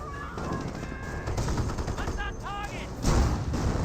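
Dense World War II battle noise from the strategy game Company of Heroes, with overlapping machine-gun rattles and gunshots under a continuous din, plus whistling tones and a heavier boom near the end.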